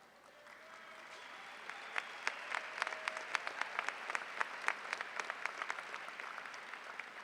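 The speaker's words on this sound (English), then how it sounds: "Let's give them all a round of applause" Graduation audience at Stevenson High School's 2014 ceremony breaks into applause, swelling quickly from a soft start into sustained clapping with sharp, close individual claps popping out above the crowd.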